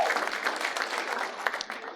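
A comedy club audience breaks into applause, dense clapping spread across the room at moderate loudness, continuous and fairly even for a couple of seconds.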